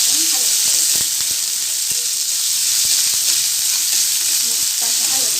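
Onion fries in a pan for chilli potato, giving a loud continuous sizzle and hiss. A spoon stirs through it with scattered scraping clicks. No voices are heard.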